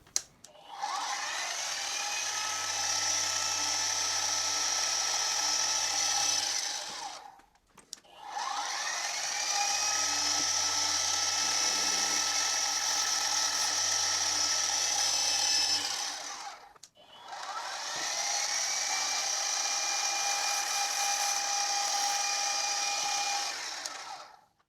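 A 2.5 mm hole is drilled into metal while making a spindle nut for a Quorn Mk3 tool grinder, heard as three long, steady whining drill runs of about seven seconds each, separated by short pauses, with no talking.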